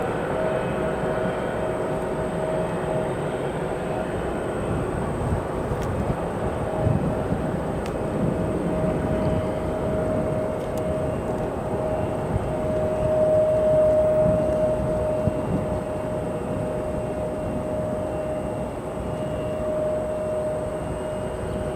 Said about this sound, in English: we're going to go to the British Airways flight departing on runway 9